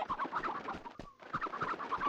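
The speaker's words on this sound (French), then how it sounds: "Elles font drôle de bruit, les poules, je trouve." Chickens in a PS2 video game cluck in steady, busy bursts, with a brief lull midway before the rapid clucking resumes at a moderate, close level.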